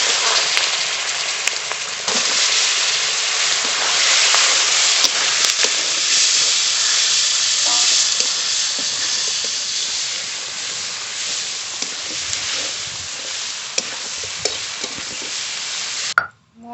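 Fish or big prawns frying in oil make a loud, continuous, dense hissing sizzle up close for about sixteen seconds, with small pops and scrapes, before it cuts off.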